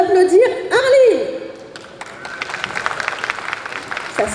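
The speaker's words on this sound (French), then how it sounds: "Maintenant, je vous demande d'applaudir Arline." An audience at a cosplay show at a game convention breaks into applause with some whistling after a loud amplified voice, the clapping continuing as a dense, moderately distant patter.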